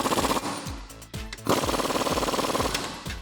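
An impact wrench rattles in quick repeated hammering bursts, tightening axle U-bolt nuts with a 19mm deep socket during a Teraflex 2.5-inch suspension lift on a Jeep Wrangler JK, loud and close, with brief pauses between runs.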